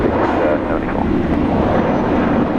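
A jet airliner takes off from runway 19 right at Brisbane International Airport at sunset, its engines a loud, steady, broadband roar with voices faintly present beneath.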